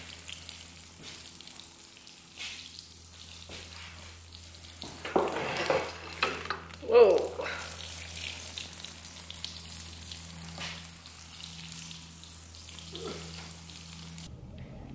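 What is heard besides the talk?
watering very dry garden plants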